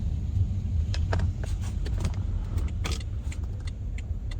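A 320-horsepower BMW 6 Series with 400 Newton meters of torque drives along with a low, steady engine and road rumble and light rattling clicks over it, heard from inside the car.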